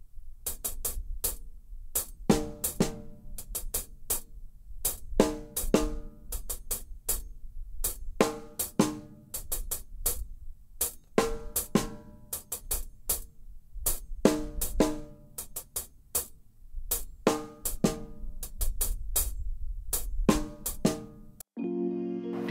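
Ghanaian gospel praise drum pattern with all parts played together, a busy, driving rhythm of sharp repeated hits over a steady low pulse, loud and continuous with no talking until it stops abruptly near the end.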